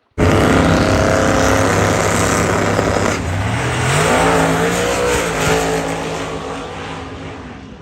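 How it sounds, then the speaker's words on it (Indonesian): A toy drag race car's motor whirs loudly and steadily for several seconds, its pitch climbing and shifting midway like revving, close up and alone. "Ini adalah mainan mobil drag race, teman-teman."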